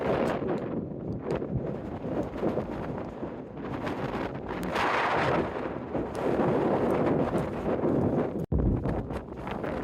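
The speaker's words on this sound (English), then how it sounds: "It's really freaking windy." Strong wind on a mountain hiking trail, roaring steadily into the microphone with rising and falling gusts and a brief dropout near the end, no voices.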